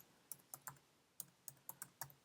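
Quiet, close keystrokes on a computer keyboard as a terminal command is entered: two short bursts of about five clicks each, separated by a brief pause, with no voice.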